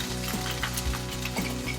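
Spices sizzling and frying in hot ghee in a pan while being stirred, a steady close crackle with soft scraping pulses, for a Kashmiri dum aloo.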